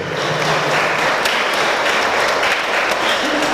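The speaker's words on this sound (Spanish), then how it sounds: "Un aplauso para esta nueva pareja, marido y mujer." Dense, continuous applause from a church congregation for a newly married couple at a wedding in Ameyaltepec, loud and steady throughout, with a voice faintly underneath.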